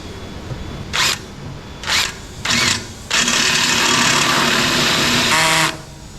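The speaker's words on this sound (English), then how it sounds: "I'm putting this piece of rubber hose over here to help me control the drill as it gets close to the depth that I want to drill." Power drill boring into the gearbox casing of a 1943 StuG III with a ZF gearbox, starting in three short bursts, then running steadily for a couple of seconds before stopping; close and loud.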